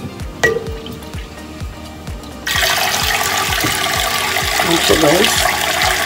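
Water gushes steadily from a hot tap in a home bathroom sink, a loud broadband rush that starts abruptly partway through and continues to the end, with someone speaking briefly over it.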